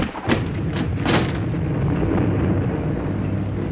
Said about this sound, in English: Was that bombs or guns?